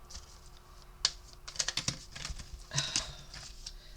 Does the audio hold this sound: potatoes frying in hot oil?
no